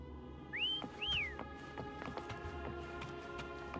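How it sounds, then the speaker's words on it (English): Two rising, sliding whistle calls, close and clear, ring out to summon Foam in the video game Wuthering Waves, followed by soft game footsteps and ambient background sound. "Why don't you call Foam over? Try whistling."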